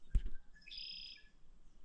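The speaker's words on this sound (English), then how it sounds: "you listen to the bugs and the birds and the bees." A bird chirps outdoors over a field of oats, peas and silage mix, giving a faint, thin whistled call after a soft knock, with quiet background ambience and no talking.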